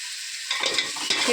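Mushroom biryani masala with turmeric sizzles in a pan and is stirred. A quiet hiss leads into bursts of crackling frying and scraping, close and alone with no voices.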